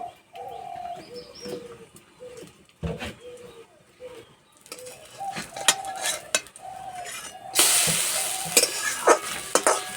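Semolina batter snacks fry in a pan, giving a steady sizzle with scattered crackles and stirring clinks up close, rising louder and hissier near the end.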